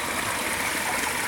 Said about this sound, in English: Definitely good water flow, just I'm not sure about the velocity.